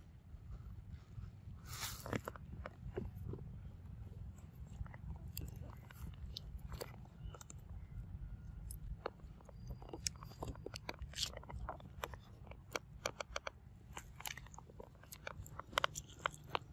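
A monkey bites and chews fruit close by, making repeated crisp crunching and chewing clicks over a soft background hum.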